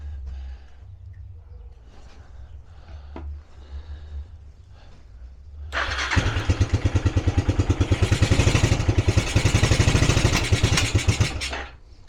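A Suzuki LT300E ATV engine being started cold without a working choke: after a quiet stretch the motor catches and runs with loud, rapid popping pulses for several seconds before dropping away.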